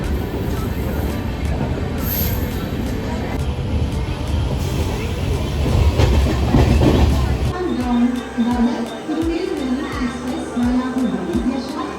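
A passenger express train in a general coach between Pune and Mumbai CSMT runs on the rails with a steady roar and rhythmic clicking of wheels over rail joints, close by, with a voice talking over it.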